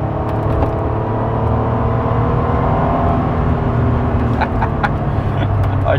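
A Honda NSX engine drones steadily and loudly from the cabin, its deep tone holding almost level with a slight climb in pitch, with a few faint clicks near the end.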